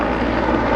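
Mil Mi-8 Hip helicopter manoeuvring at a British airshow, a steady loud broadband engine and rotor roar filling the moment with no voices over it.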